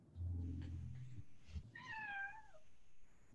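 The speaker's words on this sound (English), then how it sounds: "Nice little meow on the line." A cat gives a single drawn-out meow with a rising then falling pitch, faint and close, over a low hum and a few muffled knocks.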